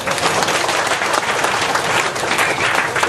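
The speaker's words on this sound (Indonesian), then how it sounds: "Tepuk tangan dulu." Audience applause at a Mocopat Syafaat gathering, a dense, loud, continuous burst of clapping from many hands with no voices over it.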